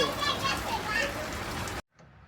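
Steady rain patters on a surface for nearly two seconds, then cuts off abruptly into near silence.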